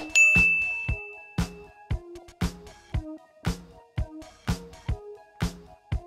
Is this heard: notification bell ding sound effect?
yes